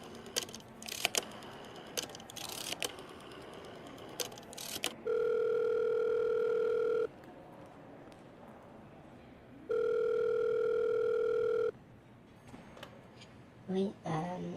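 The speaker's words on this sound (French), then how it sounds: "La femme hibou réceptionniste prend son téléphone sous son oreille et appelle." A steady telephone dial tone sounds twice in long flat stretches, separated by quieter room noise and faint clicks of handling the phone.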